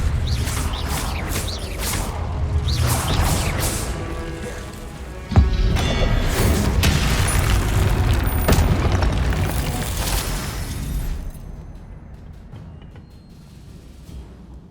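Confringo blasting spells in Hogwarts Legacy: a sequence of booming explosions and whooshes, with a sharp blast partway through and the rumble tapering off quieter toward the end.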